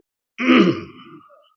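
A single close cough or throat clearing from a man delivering an Islamic sermon while recovering from fever and chest pain; one rough, strained burst that fades into a short breathy tail.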